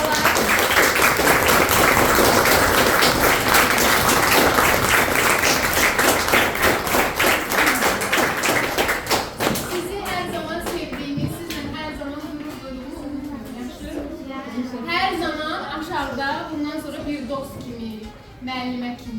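Children applaud their teacher in a school classroom, a dense, loud burst of clapping lasting about ten seconds before it thins out under voices talking.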